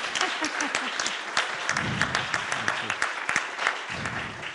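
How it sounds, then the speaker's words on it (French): Audience applause at a round-table discussion on gender parity at a film festival, a steady dense patter of many hands clapping with some voices mixed in. "Là, on peut applaudir, je crois."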